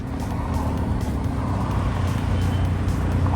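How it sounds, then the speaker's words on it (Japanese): A Toyota Century's engine gives a steady, low rumble, idling continuously at close range, with no speech over it. "エンジンかけたままでこの車置いてあります。"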